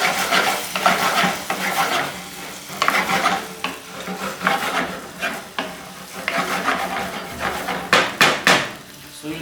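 A cup of cashews with salt sautéing in a pan for butter chicken sauce: busy, loud frying hiss with rapid metallic scraping and knocks of a spoon stirring throughout, close up.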